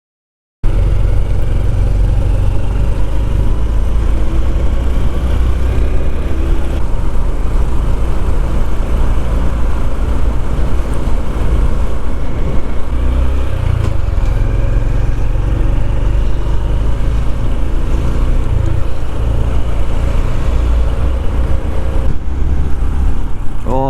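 A Honda CT125 motorcycle engine pulls steadily up a hill in second gear, a continuous low drone with wind buffeting throughout, close and fairly loud from start to end.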